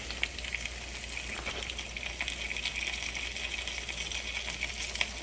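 Potatoes sear in beef tallow on a flat pan, giving a continuous, even sizzle with scattered light crackles and a low steady hum underneath.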